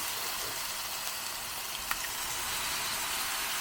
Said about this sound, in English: just going to add the tomatoes now